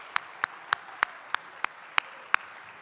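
Eight sharp, evenly spaced claps ring out one by one in a conference general session in Nashville, a sparse, distinct rhythm rather than a full ovation, fairly loud over a quiet hall.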